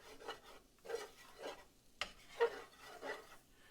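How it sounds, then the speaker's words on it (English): A Creole-style roux stirred in a pot, heard as quiet, rhythmic rasping scrapes of a spoon across the bottom, repeating roughly every half second, close up. "So you want to stand here and stir this for about 5 minutes"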